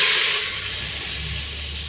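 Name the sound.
onions frying in oil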